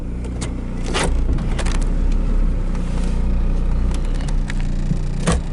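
A 1992 Chevrolet Cavalier station wagon's engine idles steadily up close, a continuous low rumble with a few clicks and knocks from inside the car.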